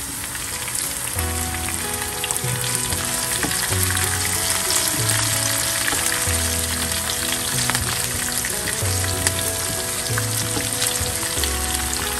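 Golden onions frying in a pan with cherry tomatoes going in for an asparagus pulao, giving a loud, steady sizzle throughout with a repeating low clatter of stirring and no voices.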